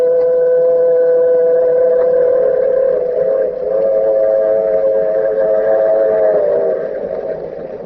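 A train whistle blows long and steady for several seconds, a loud chord of tones over the rumble of a moving train.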